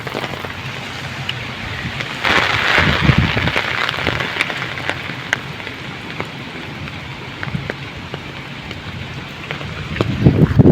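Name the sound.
strong typhoon wind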